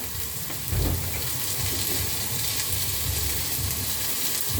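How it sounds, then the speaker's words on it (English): Sardines (omena) frying in a pan while being stirred, a dense, steady sizzle with soft scraping and a brief louder stir near the start, continuous and close with no talk. "So we continue stirring."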